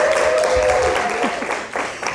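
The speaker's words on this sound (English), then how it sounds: "let's give her another round of applause for" Event audience claps in a brief round of applause, steady and fairly loud, with a sustained tone and a voice briefly audible over the clapping.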